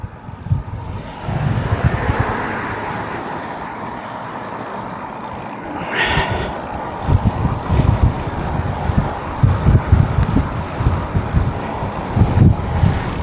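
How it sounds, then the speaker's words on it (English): Strong headwind buffets the microphone of a touring cyclist riding west on a road from Kendal to Fleetwood, producing a loud continuous roar with gusty low thumps throughout. "God, it's a bloody headwind."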